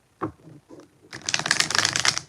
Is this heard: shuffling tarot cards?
yes